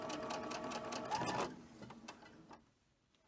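A sewing machine runs in a quick burst of rapid stitching, joining small quilt fabric pieces, close and clear, then stops and leaves faint handling noises.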